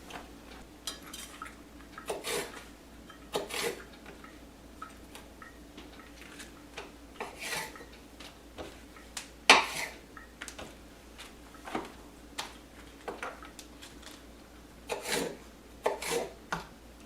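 A knife chops through cabbage leaves on a cutting board, giving irregular, close, crisp taps and soft thuds spaced a second or two apart over quiet room tone, with no one talking.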